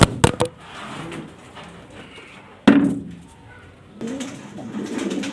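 Pigeons coo at a pigeon exhibition, low burbling calls broken by a few sharp knocks and clatters nearby, with cooing swelling again toward the end.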